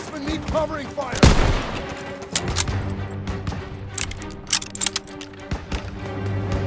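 Rapid WWII-era gunfire in the Call of Duty: WWII campaign, with dense bursts, single shots and a loud crack near the start, all heard over a constant rumbling battlefield bed.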